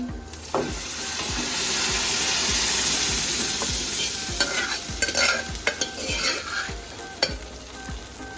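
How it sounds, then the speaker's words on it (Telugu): Dal being stirred into a sizzling tempering of curry leaves and asafoetida for brinjal dal, with a steady close frying sizzle and repeated scraping stirs of a spoon against the pan, no talk. "ఈ పోపులో కాస్త ఇంగువ వేసుకొని కొద్దిగా కలుపుకొని ఈ పప్పుని ఇందులోకి షిఫ్ట్ చేయడమే."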